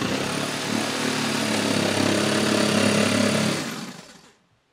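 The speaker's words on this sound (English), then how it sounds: "now we're going to drill a couple holes through" A power drill bores a couple of holes through a photo booth panel ahead of a fan install, a steady loud whir running for about four seconds before winding down and stopping.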